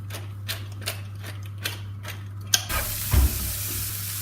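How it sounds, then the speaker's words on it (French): Food sautéing in a pan with a generous knob of butter, a steady close sizzle starting partway through after a few light taps and clinks, with a brief louder scrape near the end. "on va les faire revenir. Une bonne noix de beurre, le poivre"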